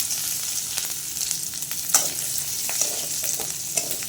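Ginger frying in a pan, stirred with a spatula, giving a soft continuous sizzle broken by sharp scraping clicks and taps of utensil against the pan, heard close with no talking.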